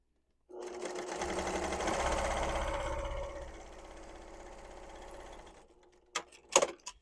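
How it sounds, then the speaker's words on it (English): A sewing machine set to a long stitch quilts one continuous straight line through a padded quilted book sleeve, a close, steady motor hum lasting several seconds, easing slightly midway, then stopping with a few sharp handling clicks. "And then you're just going to quilt one straight line."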